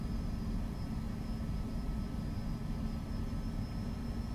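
A simulated aircraft taxis in X-Plane 12, its engine giving a steady, even drone with a constant low rumble and a faint high whine throughout, with no speech.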